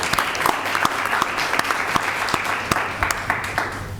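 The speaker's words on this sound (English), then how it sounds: "So can we give a big round of applause to our student equity ambassadors?" Steady applause from a school board meeting audience honoring student equity ambassadors, with sharp individual claps standing out over a dense, continuous patter of many hands.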